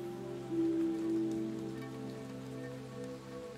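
Steady rain falls in a quiet sacred place, a soft continuous patter heard alone beneath a low sustained tonal drone, calm and moderately faint throughout.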